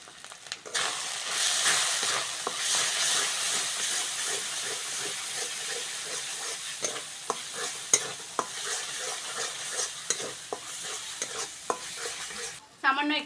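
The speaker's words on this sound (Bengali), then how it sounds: "মশলাটা ভালো করে কষে নিয়েছি" Spice paste with ginger, garlic and onion sizzles steadily in a pan while it is stirred, giving continuous hissing frying noise with frequent sharp scrapes and clicks from the stirring, loud and close throughout.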